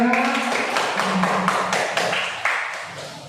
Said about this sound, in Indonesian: tepuk tangan pada kelompok 2